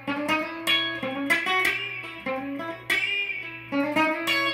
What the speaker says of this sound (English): those harmonics where you use the pick in your thumb